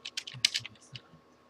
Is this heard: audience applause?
no